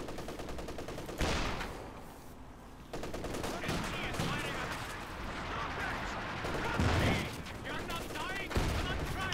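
Rapid MP40 submachine-gun bursts from Volksgrenadier squads in Company of Heroes 2, mixed with other battlefield gunfire and explosions at steady, loud levels with a voice commenting over the top.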